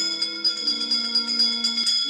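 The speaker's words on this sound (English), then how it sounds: "give us a hint by ringing a" A bell in the Roblox Haunted Mansion game, a sustained metallic tone with several steady ringing overtones and a light repeated pulsing, loud and clear with no talking.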